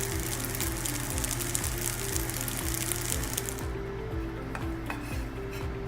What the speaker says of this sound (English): And now we're just mixing all these onions in.